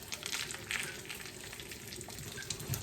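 Tonkatsu pork chops frying in very hot oil, a steady close crackling sizzle with bright spitting pops throughout.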